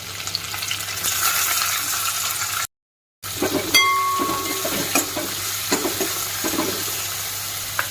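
Onion, curry leaves, ginger-garlic paste and Byadgi chillies frying for dal fry, a loud steady sizzle that drops out briefly, then returns with spatula clinks and stirring scrapes, no voices.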